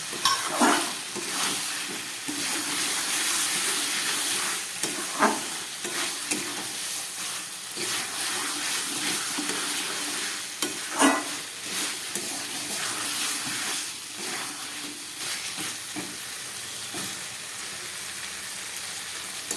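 Fried potatoes go into a pot of simmering Bengali-style chicken soup, and a steady loud sizzle carries on throughout while a spoon scrapes and stirs in repeated short bursts.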